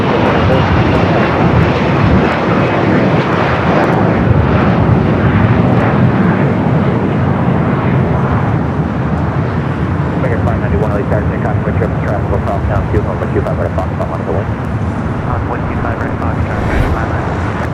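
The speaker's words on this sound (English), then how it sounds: "Next arrival, it's an old TWA bird, a 757-200, delivered to TWA in June of 1997." A Boeing 757-200 airliner, formerly of TWA, arriving at Los Angeles airport, its engines a loud sustained roar that fades slowly, with talk over the top.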